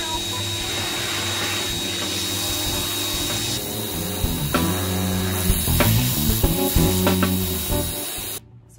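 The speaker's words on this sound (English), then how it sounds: "This is the part where I get absolutely filthy and just continuously spray debris from one side of the trailer to the other." A continuous hissing spray blasts debris across the inside of a horse trailer being cleaned out, close and steady, with clattering and knocking bits of debris striking the trailer walls before it cuts off abruptly.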